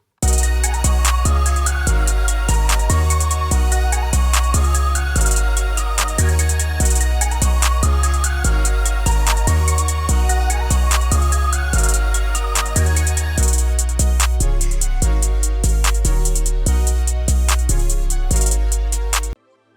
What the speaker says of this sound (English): Altogether, our drums and melody now already sound like this.